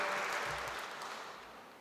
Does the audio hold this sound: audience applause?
yes